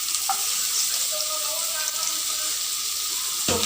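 Garlic going into onions already frying in a pan, a steady bright sizzle close by with a few faint clinks and a louder clatter at the end.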